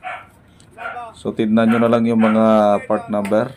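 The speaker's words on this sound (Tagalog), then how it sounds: "Abot pa rin yung ingay ng aso dito." A person talks up close while a dog barks and yelps in the background, the barking partly masked by the voice.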